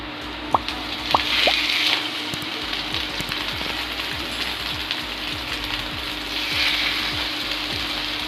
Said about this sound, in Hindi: घी बिल्कुल गर्म हो चुका है। अब इसमें हम डाल देंगे अपने ब्रेड।